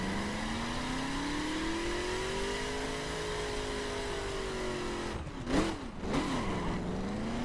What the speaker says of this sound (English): I'm gonna do a quick burnout